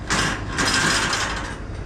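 Folding firewood baskets latching shut at a maple syrup boiling setup, a short close clattering of metal mechanism sounds in two quick bursts.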